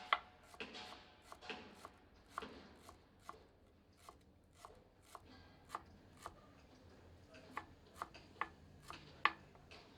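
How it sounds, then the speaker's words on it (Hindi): Fresh coriander chopped with a knife on a board, a quiet, uneven series of sharp taps with short pauses between bursts, close and with no talking. "पचास ग्राम हरी धनिया को भी काट लेते हैं।"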